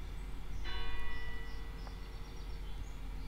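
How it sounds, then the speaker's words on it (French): A church bell strikes once, then again, its ringing tone sustained and fading over a steady background hiss, heard from a distance. "je vais écouter les cloches sonner."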